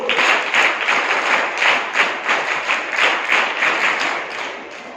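A school audience applauds a guest lecturer, with many hands clapping in a steady, loosely rhythmic patter that holds for several seconds and eases off slightly toward the end.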